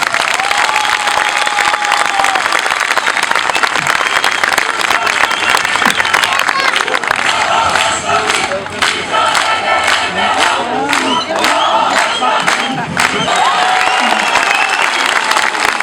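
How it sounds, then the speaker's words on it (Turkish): A large outdoor crowd at a party election office rally in Bodrum applauds loudly and cheers. Shouts and chanting voices ride over the dense clapping, which grows into sharper rhythmic claps near the end. "O yüzden bir kere daha alkış hak ediyorsunuz."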